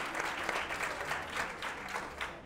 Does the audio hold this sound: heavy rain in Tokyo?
no